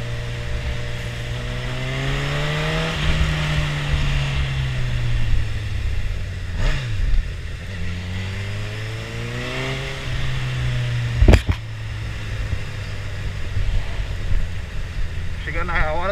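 A Honda CB1000R motorcycle fitted with a K&N air filter rides through city streets, its engine note rising and falling through gear changes, fairly close and loud, with wind noise and a brief sharp knock partway through.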